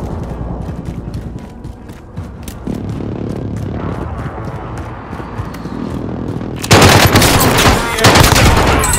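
Rapid automatic gunfire from a Milano submachine gun in a first-person shooter game, with dense bursts of shots under game effects, growing louder and denser in the final seconds.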